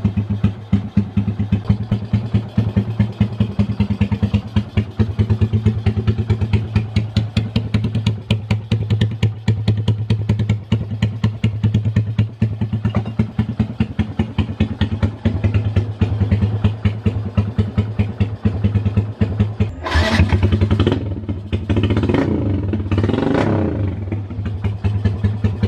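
A Yamaha SZ motorcycle engine runs after an overhaul with a 63.5mm piston, idling close and loud with a steady rapid clatter, then rising in a few short revs near the end.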